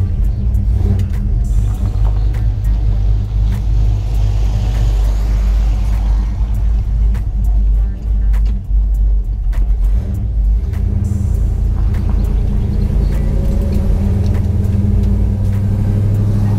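A Chevrolet Nova's carbureted engine fires up for the first time and keeps running, a loud, steady low rumble with a slight rise in revs toward the end.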